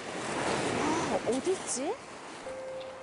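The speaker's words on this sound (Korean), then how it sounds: "시원한 파도 소리 여러분도 들리시죠?" Surf washes steadily onto an East Sea beach near Gyeongju, a broad close wash of waves with wind, while a voice speaks briefly over it.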